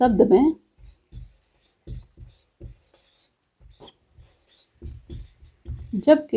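A board is written on during a Hindi grammar lesson, with short scratchy strokes that come in scattered bursts between and under a teacher's spoken explanation.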